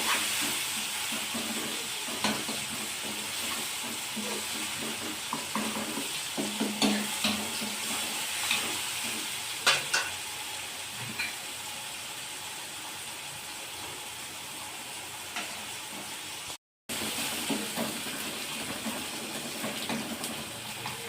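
Nellore-style vada curry mixture fries in a pan with a steady close sizzle and hiss, stirred now and then with light scraping, continuing evenly with a brief dropout near the end and no talking.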